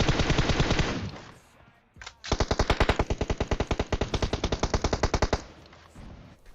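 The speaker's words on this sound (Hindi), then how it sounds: "अब गोलियां काफी लगती है" Rapid automatic gunfire in PUBG Mobile rattles in loud bursts, a short pause breaking the first stretch before a long, evenly paced volley.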